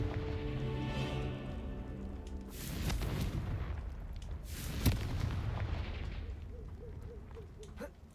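Casting the Confringo fire spell in Hogwarts Legacy sets off booming explosions that burst in a cluster with one sharp crack at the peak, under game music and effects.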